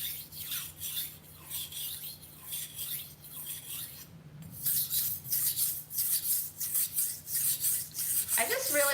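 A cheap stainless steel kitchen knife drawn across a whetstone in repeated rhythmic strokes, each a close, gritty scraping rasp with brief pauses between passes.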